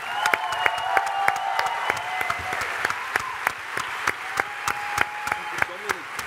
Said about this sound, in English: Can we just give a massive round of applause to Hans for an amazing session?